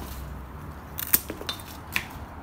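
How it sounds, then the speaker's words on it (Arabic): Scissors snipping off the lower leaves of a hydroponically grown tomato plant, a couple of crisp, close clicks and snips over about a second, fairly quiet against a soft background. "نقص الأوراق اللي تحته"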